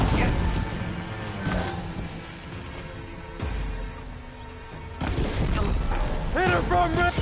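Weapons fire in a PS4 shooter game: heavy booming blasts and rattling gunfire bursts, loud and continuous over music-like tones, with a voice calling out over the action.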